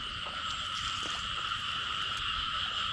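Frogs croak steadily during a frog-catching outing in Đa Phước, a dense, continuous chorus of sustained calls with a few sharper individual croaks, close and loud with no voices.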